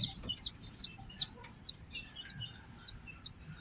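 Ten-day-old Benjarong-coloured bantam chicks peep in a steady run of high, rising chirps, close and fairly loud over a low background rumble, with no one talking.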